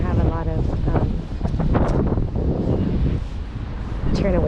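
Gusty wind buffets the microphone while street fishing in Amsterdam, making a loud, rumbling roar with a person talking over it.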